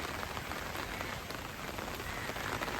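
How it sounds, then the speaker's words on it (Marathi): Heavy rain pours down in a dense, unbroken hiss as someone sets out from home toward a mountain trip. The downpour is loud and steady throughout, with no voices. "पाऊस तर बघू शकता, पाऊस खूप आहे."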